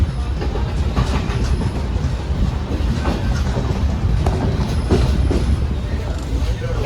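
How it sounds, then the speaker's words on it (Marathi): A train rolls into Sangameshwar station on the Konkan route, a steady loud rumble of wheels and carriages with faint rhythmic clatter and occasional squeals, heard close up throughout with no clear talk. "ट्रेन पण एकदम टायमामध्येच आहे."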